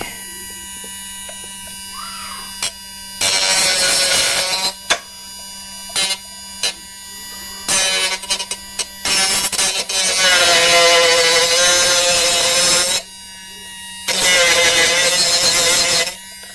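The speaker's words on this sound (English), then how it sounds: "It's gonna cut some plastic." A homemade rotary tool built from cheap parts cuts into plastic in several loud, buzzing bursts of a few seconds each. A high grinding whine rises and stops between passes, with a low motor hum and brief clicks in the pauses.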